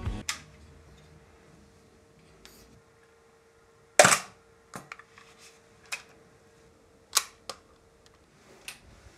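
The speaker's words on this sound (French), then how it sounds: "je referme mon obturateur manuellement" A Mamiya RB67 medium-format film camera being worked by hand, a series of crisp mechanical clicks and clacks, one loud snap followed by several smaller ticks scattered across a quiet room.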